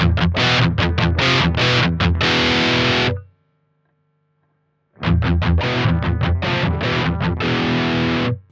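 Electric guitar played through a JHS AT+ drive pedal with heavy distortion: two loud bursts of chugging, crunchy chords separated by a couple of seconds of near-silence with a faint amp hum.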